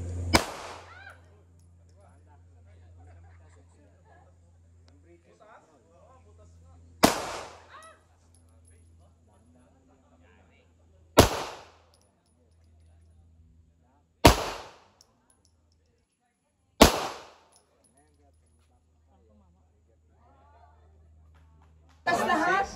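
Five sharp gunshots from firing on a range ring out one at a time at irregular intervals, each loud, close and followed by a brief decay, with quiet gaps and a low steady hum between them.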